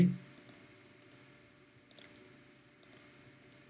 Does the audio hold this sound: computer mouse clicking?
yes